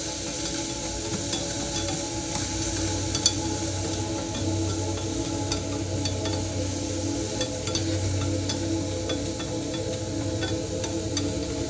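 Strawberries warm in a pan, giving a soft, steady sizzle and hiss with occasional light clicks and stirring scrapes, quiet and continuous without any talk.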